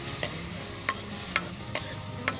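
Garlic and ginger frying in butter for butter chicken, a steady soft sizzle with five sharp spoon clicks against the pan spaced roughly half a second apart.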